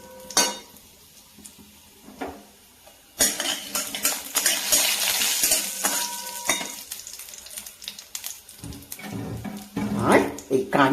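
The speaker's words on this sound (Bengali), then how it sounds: "5 ফোড়নটা একটু ভাজা ভাজা হোক।" Panch phoron, a Bengali five-spice mix, frying in white cooking oil in a pan, with sizzling and clattering utensil and stirring sounds that grow louder partway through, while a person talks over it.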